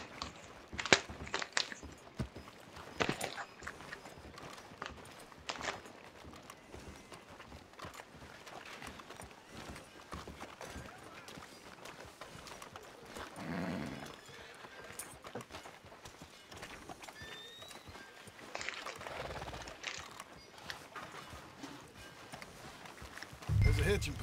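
Horse hooves clip-clop steadily along a street in the Red Dead Redemption 2 video game, a soft continuous walking rhythm under a game soundtrack, with voices speaking over it.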